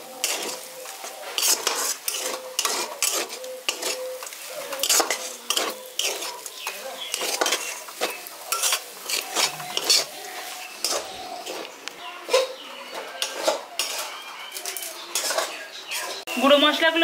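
A spoon stirs vegetable chop filling with crushed fried peanuts in a pan, giving steady scraping and clinking strokes close up, with a faint sizzle underneath throughout.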